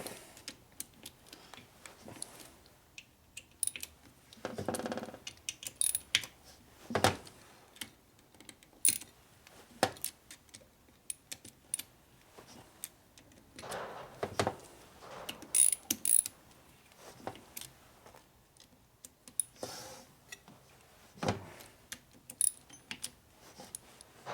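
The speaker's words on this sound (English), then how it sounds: "Okay, now we torque it." A torque wrench tightens bolts on the transmission of a 1967 Harley-Davidson 74ci Shovelhead FLH during a rebuild. It gives close, sharp ratcheting clicks and metallic bursts at irregular intervals, separated by quieter handling noise, with no talk.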